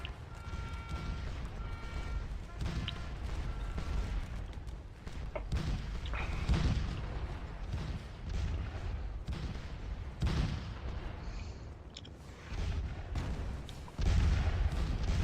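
Artillery guns firing in a Waterloo battle video game, a continuous rumbling barrage of booms and crackling volleys with repeated louder blasts, heard without speech.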